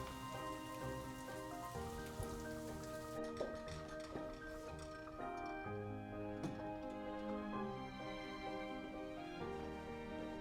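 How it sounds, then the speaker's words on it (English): Freezing rain during a winter storm, a faint, steady patter of drops tapping on a surface outdoors, heard quietly beneath soft sustained music. "We've been getting freezing rain tonight,"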